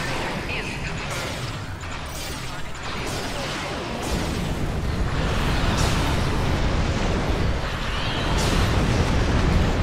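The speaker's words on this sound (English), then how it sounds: "Somebody else blew up." Ships blow up in a Star Trek Online space battle against the Borg, with rumbling blasts and bursts rolling over one another continuously, loud and dense, building slightly toward the end.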